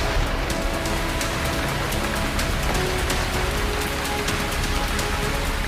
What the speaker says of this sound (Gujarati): વહેલી સવારથી જ ધોધમાર વરસાદે ચારેકોર પાણી જ પાણી કરી નાખ્યું।